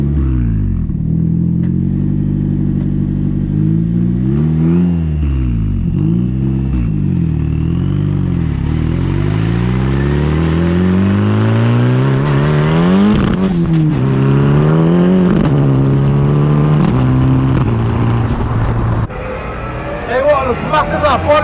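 A Ford Escort Maxi rally car with a sequential gearbox drives nearby, its loud engine revving up and down repeatedly and climbing through the gears, with a sharp rattle near the end.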